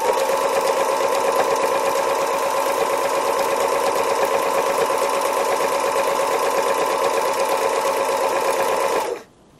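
A sewing machine running fast for free motion embroidery: a loud, steady, rapid mechanical whir of stitching for about nine seconds, stopping abruptly at the end, with no voice over it.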